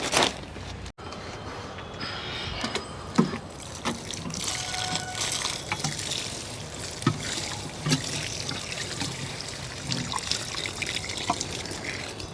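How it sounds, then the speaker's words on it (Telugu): Water trickles and dribbles steadily through loose potting soil as an apple plant is repotted, a close, continuous wet draining sound with small splashes and faint clicks throughout. "నీళ్ళు కారిపోతాయి కిందకి,"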